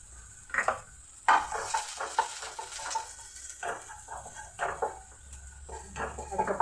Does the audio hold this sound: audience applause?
no